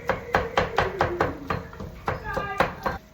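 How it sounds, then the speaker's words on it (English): Ground beef being chopped up with a utensil in a pan on the stove, a rapid run of about a dozen loud, close knocks and scrapes against the pan, with a voice briefly speaking. "Chop up that meat a little bit."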